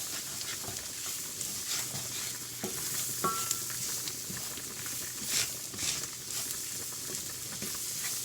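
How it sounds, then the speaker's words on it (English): Onion gravy mixture stirred in a pan as it cooks on the onions, a steady soft sizzle with scraping and stirring strokes throughout, no talk. "You just want to mix it and cook it on the onions so that it doesn't get real clumpy"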